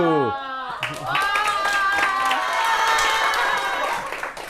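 A short voice at the start, then a burst of clapping and cheering from a first-year high school class that rises and holds steady before fading slightly.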